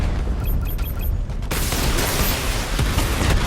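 A Batmobile weapon barrage in Batman: Arkham Knight starts with a few short electronic beeps, then erupts into a loud, sustained rattle of rapid blasts and booms.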